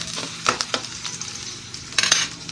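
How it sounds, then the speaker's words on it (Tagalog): Onions and ginger sautéing in a pan for tilapia sinigang, a steady sizzle broken by several sharp spoon scrapes and stirring clinks, close and moderately loud. "Isunod na po natin yung ating sibuyas."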